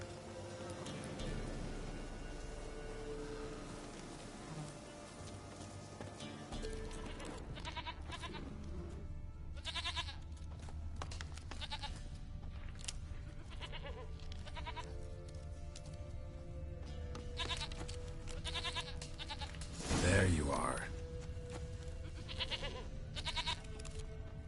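Goat bleats from a PS4 video game, heard intermittently under game music and ambience, with a louder bleat near the end; a person speaks briefly.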